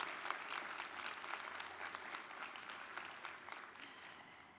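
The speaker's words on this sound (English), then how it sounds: "give yourselves a round of applause" An audience at a university Founders' Day celebration claps steadily, a dense patter of many hands that tapers slightly toward the end.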